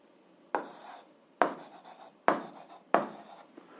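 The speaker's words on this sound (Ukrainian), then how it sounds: "Записуємо, отже." Handwriting on paper while working an algebra exercise: four separate bursts of pen scratching, each starting with a sharp stroke and trailing off, spaced about a second apart, close and fairly quiet, with no voices.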